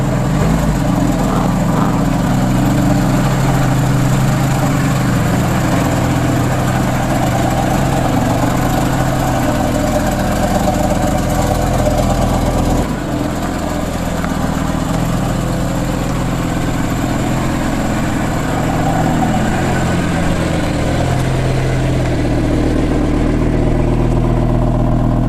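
A 2015 supercar's engine runs steadily and loudly outdoors, a continuous close rumble with no talk and only a slight dip in tone partway through.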